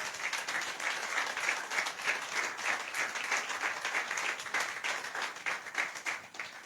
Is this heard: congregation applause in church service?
yes